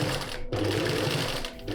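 A sewing machine stitching through covered boning on liquid organza stays, a close, steady whirring needle drive that briefly stops and resumes within a short burst.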